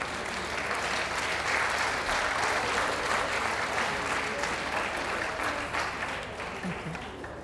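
Spectators at the Bath Dog Show's Best in Show ring give the judge a hearty round of applause, dense continuous clapping from a large crowd that tapers off slightly toward the end.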